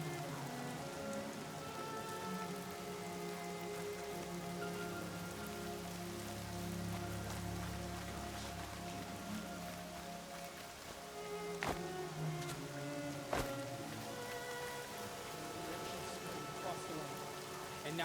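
Steady rain falls in the video game Horizon Zero Dawn Remastered, a dense, even hiss with scattered sharper drops and a low rumble underneath, heard alone throughout.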